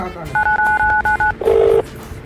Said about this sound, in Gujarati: આને ફોન કરવો જોઈએ ના